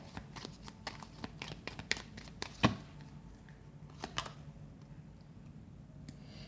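Tarot cards drawn and handled: faint, scattered taps and soft papery clicks, close by and quiet, with a slightly sharper rustle partway through.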